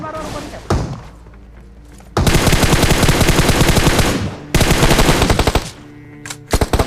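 Automatic gunfire in a battle royale shooter game hammers out in long, dense bursts with sharp single shots and pauses between, loud and close, with a voice speaking over parts of it.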